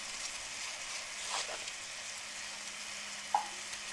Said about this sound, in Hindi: अब इसके साथ ही हम कटी हुई प्याज और लहसुन की कलियां डाल देंगे।